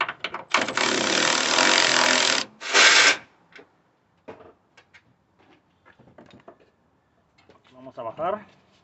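A bolt being removed from the front shock absorber of a 2011 Nissan Sentra with a tool: a loud sustained mechanical whirring burst of about two seconds and a second short burst, followed by scattered clicks and clanks, with a brief voice near the end.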